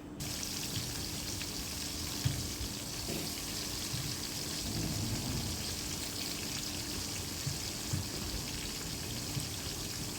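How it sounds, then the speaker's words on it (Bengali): Hilsa pieces rubbed with salt and turmeric sizzle in hot oil, a steady dense crackle and spatter running close and continuous with faint pops throughout. "মাছগুলোয় আমি লবণ হলুদ দিয়ে ভালো করে মেখে আমি মাছগুলো তেলের ভিতরে দিয়ে দেব।"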